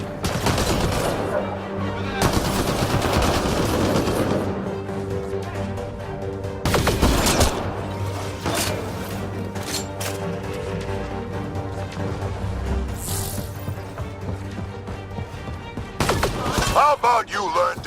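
Gunfire in the sci-fi shooter Mass Effect: Andromeda comes as rapid bursts and sustained volleys of weapon fire with occasional booms, loud and dense, mixed with game music and brief character voices.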